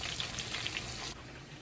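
Fish sizzles steadily in a hot pan for a Jamaican brown stew fish, a close, continuous hiss with crackling pops that drops a little in level near the end.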